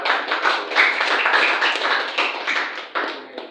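A classroom of students claps for a student group after their presentation, a dense patter of hand claps filling the room steadily and fairly close, with no talking over it.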